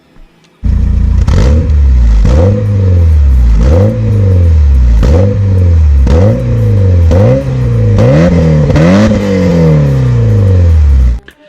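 Porsche 944, an 80s sports car, revved repeatedly with about eight sharp throttle blips, each rising then falling back to idle, loud and close with no talk.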